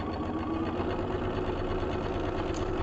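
A home sewing machine runs steadily, stitching fabric around the heart shape of a cat quilt block, its motor hum and rapid needle rhythm continuous and close for the whole stretch with no talking.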